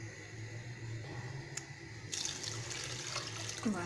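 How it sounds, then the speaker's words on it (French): Water pours steadily into a pan of paella-style rice on the stove, a soft running splash that swells and grows brighter midway, close and alone with no talk. "Je vais rajouter 500 ml d'eau."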